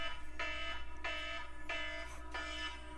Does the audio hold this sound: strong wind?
no